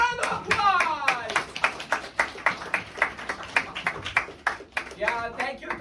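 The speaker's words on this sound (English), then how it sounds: "Round of applause." A small studio audience gives a round of applause on a talk show. The claps come as distinct, separate strikes in a loose rhythm, moderately close, alongside ongoing speech.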